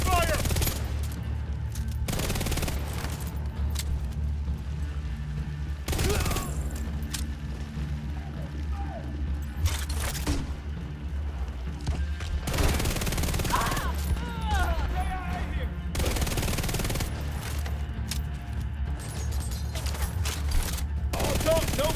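Gunfire in the shooter video game The Division 2, with repeated bursts of rapid automatic fire and sharp shots spread across the clip, interspersed with quieter stretches and game sounds.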